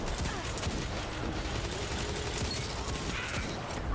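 Rapid gunfire in Destiny 2, with the Dire Promise hand cannon among the weapons, dense overlapping shots and mechanical clatter filling the whole few seconds at a steady loud level.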